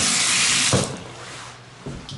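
A shower in a home with ceramic tiles runs at full pressure on hot, a loud close hiss of spraying water that fades to a quieter trickle, with brief knocks.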